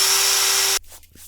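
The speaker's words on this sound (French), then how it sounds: "Perce la lame avec une mèche à façonner Forstner." A Forstner bit bores steadily through a click-fit vinyl floor plank, a loud continuous whining grind that cuts off abruptly partway through, leaving faint handling noises.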